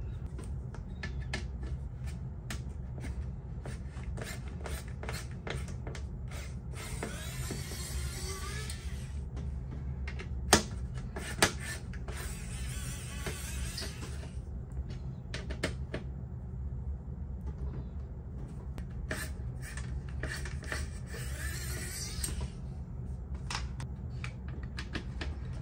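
Screws being worked out of a PlayStation 1 console casing: quick dry clicks and ticks of the screwdriver against plastic, with a few scratchy rustling stretches and two sharper taps, all close and quiet.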